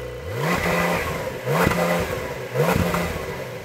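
A Porsche 911 Carrera S engine revs three times in quick succession, each rise cut off sharply by a soft limiter at 4000 rpm before dropping back, loud and close with no voices.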